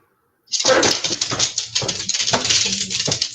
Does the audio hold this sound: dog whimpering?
yes